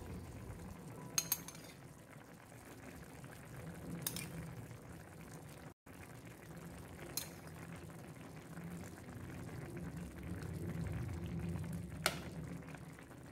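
Chicken woku simmering in a pot with lime juice added, a quiet steady bubbling and sizzling broken by a few sharp clinks of a utensil against the pot.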